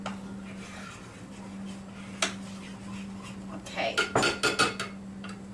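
A spoon stirs sourdough starter in a jar, with one sharp clink and then a quick run of scraping, knocking strokes against the glass over a steady hum, and a brief spoken word.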